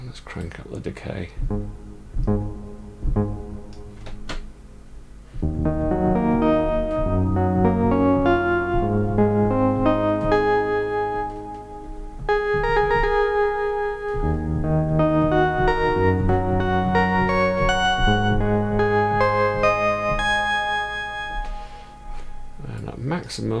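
Guitar chords and single notes ring out into a long, lingering plate reverb tail with the decay turned up on a Mercury 4, each phrase smearing into the next before trailing away.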